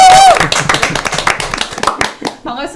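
Dense studio applause welcoming a broadcast announcer as a guest, rapid overlapping claps, loud and close, tapering off toward the end, with a voice briefly rising over it.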